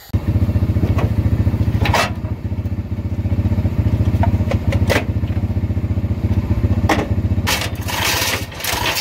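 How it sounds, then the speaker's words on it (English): A four-wheeler ATV engine runs close and loud at a steady throbbing idle-to-load pulse while pushing a 1990 Chevy truck, with occasional clanks and thumps over the constant chugging. "I'm gonna grab the four-wheeler and push her back"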